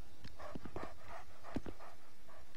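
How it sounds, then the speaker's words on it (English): A dog creature in the video game Dark Souls II, heard as a few short, faint barks and yelps in quick succession over a low ambient game background. "It's a dog."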